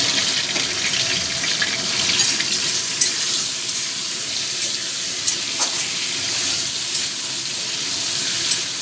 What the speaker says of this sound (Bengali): আলুগুলোকে লাল লাল করে ভেজে নেব একটু হলুদ দিয়ে দেবো